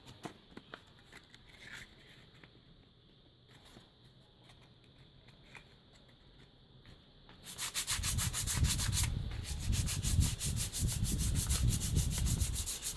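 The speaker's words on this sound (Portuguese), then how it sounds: "E aí você faz aquele processo normal de lixar." Cement putty on a milk-carton planter being sanded by hand with 120-grit sandpaper. Soft, faint rubbing gives way to steady, louder, close scraping strokes in the second half.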